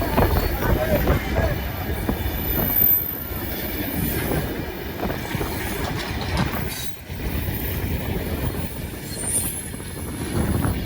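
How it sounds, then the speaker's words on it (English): The long iron ore freight train in Mauritania rolls past up close, a loud continuous rumble of steel wheels with clattering rail joints and occasional squeals, heard from a nearby vehicle. "So cool to see that train."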